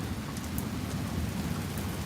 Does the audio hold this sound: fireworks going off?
no